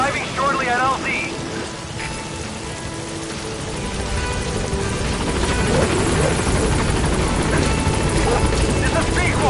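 Helicopter rotor and engine from Metal Gear Solid V arriving at a landing zone, a steady broadband whir that grows slightly louder, mixed with game music and effects and with a radio voice talking over it.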